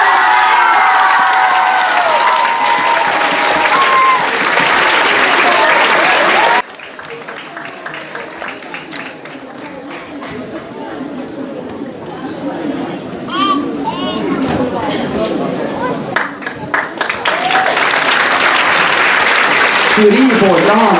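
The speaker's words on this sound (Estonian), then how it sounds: "Ja ma arvan, et me võiksime neile kõigile teha ühe suure aplausi." School audience applauding and cheering loudly for class 9B at a student competition, young voices shouting over sustained clapping that swells again toward the end after a brief dip.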